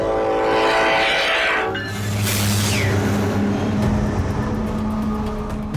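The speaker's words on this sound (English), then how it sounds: "And this is what they're waiting for. The death train." The freight train known as the death train rolls past along the tracks, a loud, close rumble with grinding metallic wheel squeal and a sustained horn-like tone fading in and out over several seconds.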